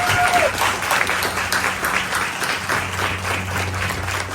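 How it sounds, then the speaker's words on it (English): A live audience at a Giving Machine event with Mufi Hannemann and Gov. Josh Green gives a steady, full round of clapping that holds evenly for several seconds, with a faint voice briefly audible underneath near the start. "So can we please give a round of applause"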